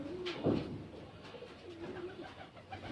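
Pigeons coo softly nearby, with low throaty warbling calls repeating over a quiet background.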